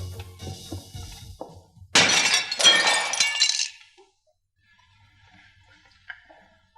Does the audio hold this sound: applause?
no